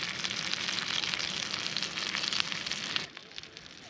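Rainbow trout frying skin-down in a pan, a dense crackling sizzle close up that cuts off abruptly near the end, no talking.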